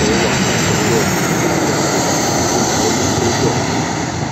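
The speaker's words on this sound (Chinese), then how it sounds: "现在飞机由北往南降落" A jet airliner descends to land at Guangzhou Baiyun International Airport, flying over the north end of the west runway as a loud, steady roar of engines that fills the short clip, with strong wind buffeting the microphone nearby.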